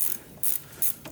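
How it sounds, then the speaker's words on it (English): Quick bursts of ratcheting clicks from a 12mm gear wrench loosening brake caliper bolts on a Jeep Comanche front axle, several short close runs of rapid pawl clatter with brief pauses between, no talking. "I'm gonna start by taking these calipers off, and I'm gonna be using a 12mm gear wrench"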